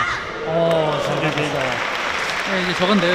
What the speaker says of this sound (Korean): 아낌없이 박수를 보내줬습니다